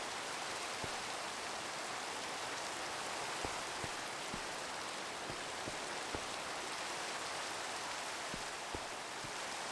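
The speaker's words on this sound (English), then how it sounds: "It started raining." Rain falling in the Minecraft video game, a soft continuous hiss of dense drizzle with occasional faint droplet ticks, quiet and steady throughout.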